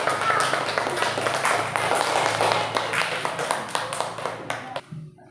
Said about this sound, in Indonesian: Tepuk tangan. Coba tepuk tangan.